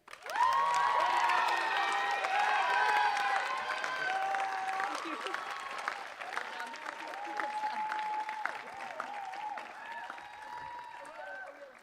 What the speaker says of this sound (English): give a big round of applause and help us congratulate Maggie